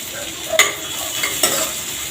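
Chopped onion and cumin seeds fry in hot oil in a kadhai, giving a steady close sizzle with a few sharper crackles and stirring scrapes.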